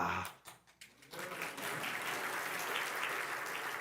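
A congregation at a Sunday church service breaks into applause after a brief near-quiet start. The clapping swells after about a second into steady, moderately loud applause from many hands that continues to the end.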